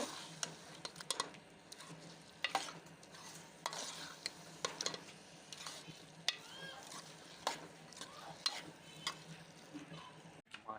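Chicken with moringa flowers and spices roasting in a pan, a soft low sizzle broken by repeated clanking stirs of a spoon against metal, fairly quiet and without speech.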